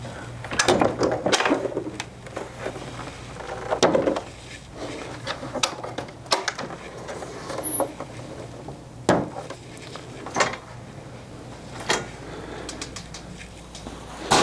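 A bifold bookcase wall bed being opened, with a series of wooden knocks, clunks and sliding sounds over a steady low hum, moderately close and without talk.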